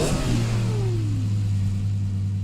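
A Lexus LFA V10 supercar engine revs hard at the start, then its pitch falls away as it settles to a steady, loud idle-like drone with no voices.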